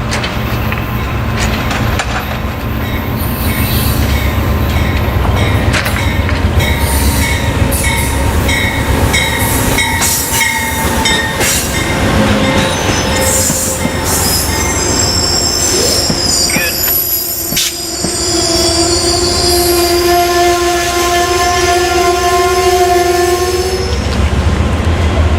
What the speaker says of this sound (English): got Amtrak 90 arriving into Florence, South Carolina. Coming in on track 2.